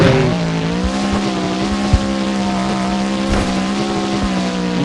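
Monster truck engine revving hard at a freestyle tournament in Jacksonville during a wheelie, a loud sustained roar with a steady low drone and rising harmonics, broken by brief thumps and crowd-level arena noise.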